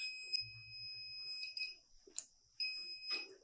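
A multimeter in continuity mode, used on a phone PCB, sounds a few short high beeps in an uneven pattern, alongside faint clicks and light handling noise.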